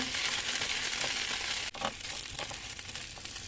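Black bean filled steamed buns pan-fry in a covered pan with water drying off, sizzling steadily up close, broken by a brief clatter as the buns are flipped, then lighter crackling and scraping.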